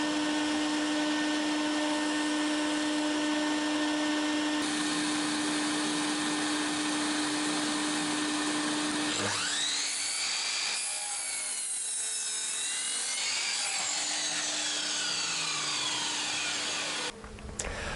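A jigsaw cuts wood for a 4-metre wooden and polycarbonate seed-starting greenhouse, its steady buzzing drone running continuously and close, shifting pitch partway through as the blade works, with no voices.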